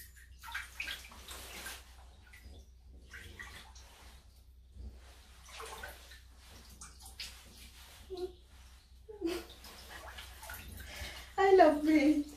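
Water sloshing and splashing in a full bathtub, close by, with someone talking and squealing over it.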